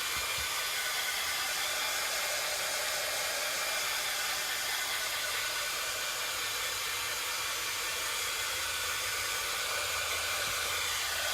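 A hair dryer blows steadily on a freshly painted craft project, a loud, continuous airy roar that holds without a break from start to finish, with no voices.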